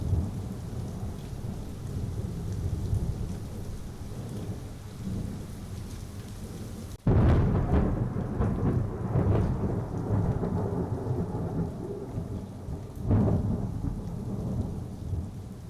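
A cartoon thunderstorm sound effect: steady heavy rain hisses, then a sudden loud thunder crack lands midway, followed by rolling rumbles and another softer boom under continuing rain.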